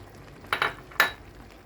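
Spaghetti with meatballs and chopped parsley being mixed in a pan, with three short clinks of a utensil against the cookware, two close together and one after a pause, over quiet background.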